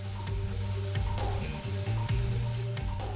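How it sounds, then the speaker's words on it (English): A frozen Dollar Tree pork loin chop sizzles steadily in a hot pan. The frying crackle is close and continuous, with a few sharper pops and no talking. "Now let's cook a pork chop that's still frozen."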